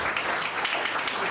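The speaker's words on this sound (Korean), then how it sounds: "많은 축하의 박수 부탁드리고요" An audience at an award presentation during a disability sports policy workshop in Gyeongbuk applauds in a brief, steady burst of dense clapping, heard from within the room.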